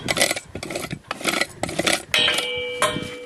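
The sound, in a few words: rasp filing the toe of a horse's hoof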